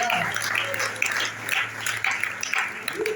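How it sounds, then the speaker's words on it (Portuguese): A church congregation applauding during a communion service, with steady clapping spread across the clip at moderate distance, partly under a voice speaking. "Aplaude e glorifique o nome dele, porque ele é digno de glória."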